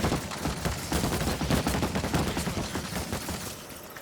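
Rapid bursts of gunfire in the video game World War Z: Aftermath crackle continuously, loud and dense, with repeated shots overlapping throughout.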